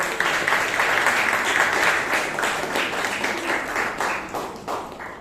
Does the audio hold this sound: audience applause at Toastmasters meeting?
yes